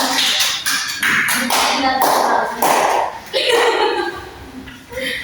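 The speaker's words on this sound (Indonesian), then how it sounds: "Terima kasih, tepuk tangan." A group claps in a burst of applause, uneven and close, with a few voices and chuckles mixed in.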